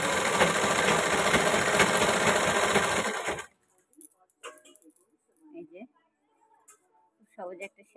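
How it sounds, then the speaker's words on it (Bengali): A sewing machine stitches a ghagra skirt in a loud, steady whirring run for about three seconds and then stops. Quiet handling noises and a few faint voice sounds follow. "সহজে একটা সেলাই দিয়ে নিলাম আমি তাড়াতাড়ি।"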